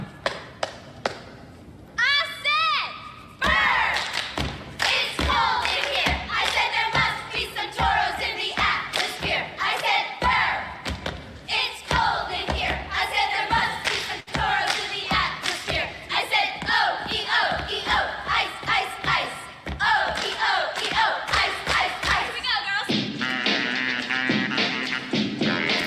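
A recorded crowd cheer is played back during a livestream. Dense, loud shouting and chanting voices run almost continuously for about twenty-five seconds, with rhythmic thumps and a short pause near the start.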